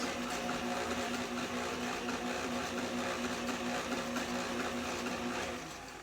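An electric mixer creams butter and sugar with dry ingredients, giving a close, steady motor whir with a constant hum that runs unbroken before fading slightly at the end, with no voices.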